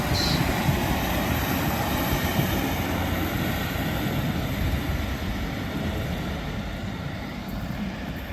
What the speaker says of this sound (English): Train now departing from Wigan Wallgate is a 156